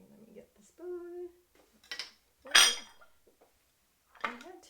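Cutlery clinks against dishes while a spoon is fetched, a few sharp, close clatters spread across a few seconds amid quiet room noise, with a brief hum-like voice sound.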